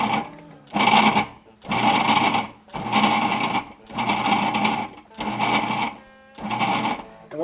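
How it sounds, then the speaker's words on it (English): Food processor pulsing butter and flour for pie crust, with six loud whirring bursts of about a second each separated by short silences; a voice briefly speaks near the end. "Pulse it a few times till it gets the consistency of coarse sand, about the size of peas."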